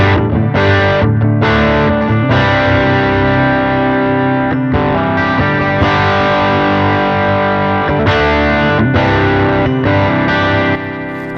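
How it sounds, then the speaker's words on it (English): An electric guitar played through a hot-rodded Marshall-style drive pedal on its Supersport side gives thick, saturated distorted chords that ring loud and sustained, with brief gaps between phrases and no talking. "with the flip of the switch, it's a hot-rodded Marshall pedal, the Supersport side"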